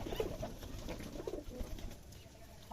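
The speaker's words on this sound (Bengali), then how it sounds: "আরো অনেক কবুতর আমার তারই আছে" Pigeons coo softly in low, throaty bursts at a pigeon farm, several calls overlapping against a faint outdoor background.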